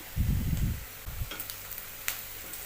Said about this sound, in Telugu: ఆనియన్ కొద్దిగా కలర్ చేంజ్ అయ్యే వరకు ఫ్రై అవ్వనివ్వాలి